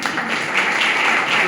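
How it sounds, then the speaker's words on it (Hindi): Audience clapping at a Veer Bal Diwas gathering in Barabanki, a loud, dense, continuous wash of applause with no pauses. "एक बार तालियां बजाइए"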